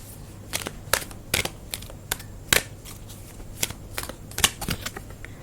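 Tarot cards being shuffled by hand, a run of crisp riffling bursts and soft flicks at an uneven pace, close and fairly quiet with a faint steady hum beneath.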